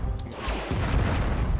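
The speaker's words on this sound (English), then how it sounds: "Ooh, nice explosion." A rumbling explosion from the video game Descent: a short, dense burst of low booming noise with a brief whooshing sweep, filling the whole moment without speech.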